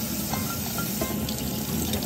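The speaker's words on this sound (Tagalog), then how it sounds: "Hugasan natin mabuti bago natin pakuluan." Salted eggs being washed under a running kitchen tap, a steady, close splashing hiss of flowing water with light clinks, continuous and loud with no talk.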